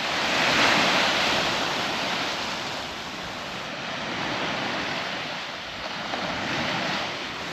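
Surf washing steadily onto a beach at the Bay of Loch Ness on Orkney, a continuous broadband wash that swells and eases in gentle surges, with some wind buffeting the microphone and no voices.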